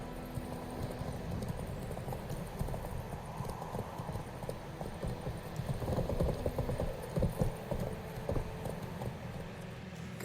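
A horse's hooves in The Witcher 3 Wild Hunt, a continuous rapid clip-clop of galloping over ground, steady and moderately close under a faint ambient bed, no speech.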